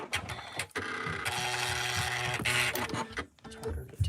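A sewing machine starts up and runs with a busy mechanical whir and clatter, fairly close, with some background voice and a clunk near the end.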